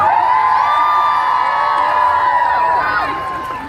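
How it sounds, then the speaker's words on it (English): A crowd at a #PinkOut rally in Washington, DC cheers loudly, a steady, dense roar of voices with whoops holding for several seconds before easing slightly. "give yourselves a round of applause"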